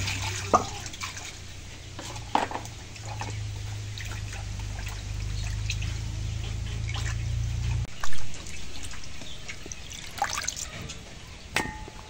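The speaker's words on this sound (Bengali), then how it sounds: "এখন মাছটা কাটা হয়েছে, আর মাছটা ধুয়ে নেই।" Cut Kajoli sea fish being rinsed in water, with soft trickling, splashing and small clinks of a bowl over a low steady hum that stops partway, fairly faint and close.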